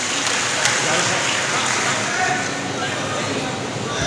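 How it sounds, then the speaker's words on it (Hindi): An audience at a mushaira claps in a continuous, dense wash of applause that holds at an even level from start to finish. "लेकिन उसके लिए अगर पुरजोर आप तालियां बजा दें"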